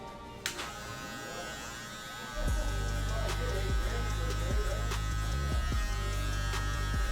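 A Gamma boosted hair clipper switches on partway through and runs with a loud, steady close-up buzz that rises and dips slightly as it moves, after a quieter opening stretch.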